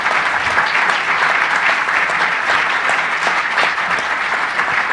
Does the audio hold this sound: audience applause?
yes